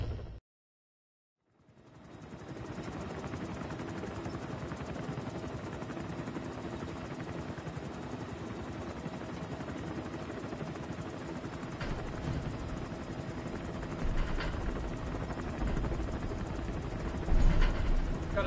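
Malfunctioning support helicopter in Metal Gear Solid V, a steady dense rotor and engine roar that starts after a brief silence and swells slightly near the end, with faint crackling bursts.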